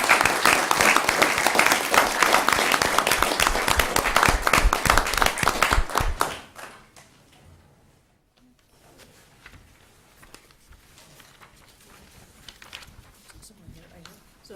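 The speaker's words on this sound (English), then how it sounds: "let's give them a big round of applause for coming." A round of applause at a school board meeting, loud and dense clapping from the audience for about six seconds before dropping off to quiet room noise.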